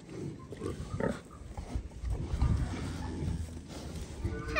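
Pigs in a farm barn grunt and shuffle close by, with low snorts and rustling movement filling the space; a voice is briefly heard among the animal noise.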